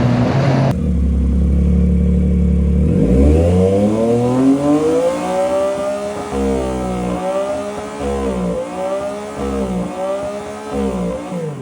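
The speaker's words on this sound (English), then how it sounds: "you'll rev it in neutral, it'll do that" A Yamaha MT-09 motorcycle engine is revved hard in neutral, then repeatedly bogs out, its pitch sagging and surging in uneven waves. The sound is loud and close throughout.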